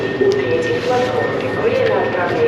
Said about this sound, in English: So this is my train, a bit more modern, of course, and faster.